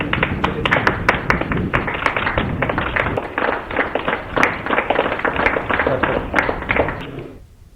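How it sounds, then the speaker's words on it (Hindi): A group of people claps hands steadily to cheer on workers during the Janata Curfew, with officials present; dense, rapid applause that holds for several seconds before fading out. "जनता कर्फ्यू के दौरान काम करने वाले मुलाजिमीन की हौसला अफजाई करते हुए तालियां बजाई"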